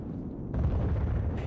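A heavy explosion in Battlefield 4 lands during a tank battle. A sudden low roaring blast hits about halfway through and rumbles on loudly to the end, with some background rumble before it.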